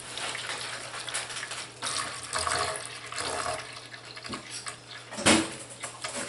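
Water for lye soap being poured into a container, a splashy, uneven stream with a few sharper splashes, close and moderately loud.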